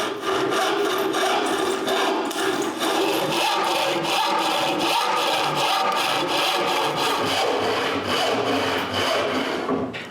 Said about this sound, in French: je coupe une rainure sur les côtés, dans l'intérieur de l'arrière de la table